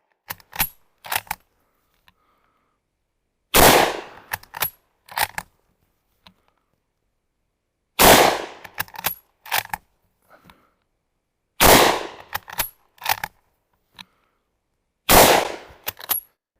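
A Mauser-Vergueiro 1904/39 bolt-action rifle fires four loud, sharp shots at regular intervals, each followed by clacking of the bolt being worked, with no talking.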